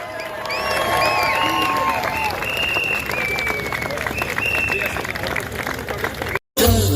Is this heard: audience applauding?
yes